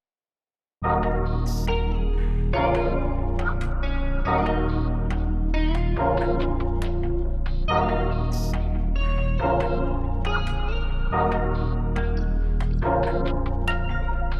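A sampled hip-hop melody loop plays loud and steady after a brief silence, with repeating bars of bright, layered tonal hits and a regular rhythmic pulse, alone and without any talking.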